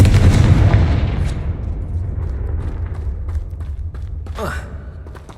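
A Confringo explosive spell blast in Hogwarts Legacy hits with a loud booming burst at the start, its rumble decaying over several seconds, followed by a brief rising whoosh near the end.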